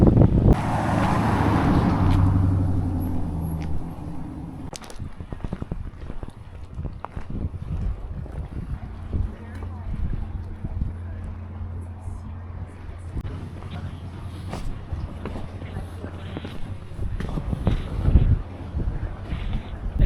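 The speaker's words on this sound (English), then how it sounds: "bloody hell, it's very windy." Strong wind buffets the microphone by the sea at Argostoli, with loud low rumbling gusts at first, then steadier gusting and scattered knocks and thumps throughout.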